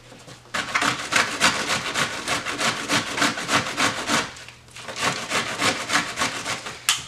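Whole cabbage being grated by hand on a grater for homemade sauerkraut, a steady run of rhythmic rasping strokes, close and fairly loud, with a short pause midway before the scraping resumes.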